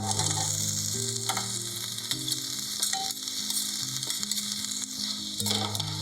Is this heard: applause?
no